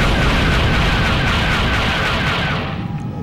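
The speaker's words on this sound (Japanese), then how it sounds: "なんだ、何の爆発だ。" In the video game City Shrouded in Shadow, an explosion unleashes a loud, dense, rumbling roar that fills the whole stretch, sustained for about three seconds before easing slightly at the end.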